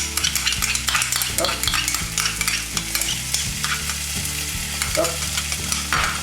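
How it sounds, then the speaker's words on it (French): Asparagus and vegetables with oyster sauce are tossed and stir-fried in a hot wok, a loud, continuous sizzle broken by rapid metallic scrapes and clanks. A voice briefly utters short interjections over it, and a low hum runs beneath. "on va mélanger brièvement, de manière à ce que cela imprègne bien les saveurs de l'asperge"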